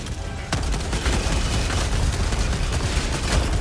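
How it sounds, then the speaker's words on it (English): Rapid autocannon gunfire in the video game Helldivers 2, a loud, dense burst of repeated shots and blasts starting suddenly after a brief pause and continuing without letup over a noisy battle. "I'm using this auto cannon."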